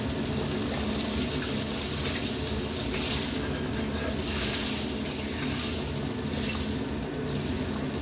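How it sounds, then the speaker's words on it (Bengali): Water pours into a pan of fish curry masala, katla macher jhal, which has been fried until the oil separated. A steady, loud rushing splash hisses and sizzles without pause for about eight seconds. "এইবারে আমি অল্প করে জল দিয়ে দেবো"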